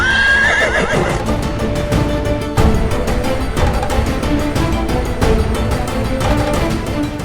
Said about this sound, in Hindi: और इस अश्व का क्या?